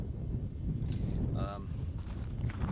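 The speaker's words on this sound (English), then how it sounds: "It's a little bit windy up here." Wind buffets the microphone in a continuous low rumble, with a faint voice briefly audible beneath it.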